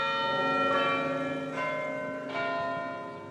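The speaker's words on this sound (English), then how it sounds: "In Harvard Square, church bells chime as millennials sip lattes and drift out of bookstores." Church bells chime in Harvard Square, several bright, ringing strikes sounding in succession with long overlapping decay, moderately loud and alone without voices.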